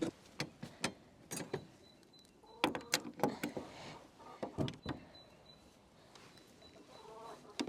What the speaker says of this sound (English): I'm going to go and see what the little chicks are up to.